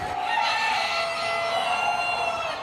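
Rooster crowing among many fancy chickens in a poultry barn at a state fair, one drawn-out crow held loud and close over a dense background of clucking birds, with no talking.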